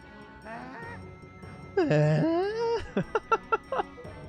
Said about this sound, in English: He did make a goose sound, didn't he?